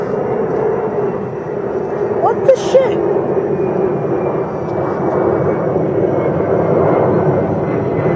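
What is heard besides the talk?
Southwest Airlines airplane flying overhead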